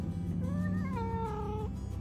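A pet cat indoors gives one drawn-out, rising and falling meow, close over a steady low hum.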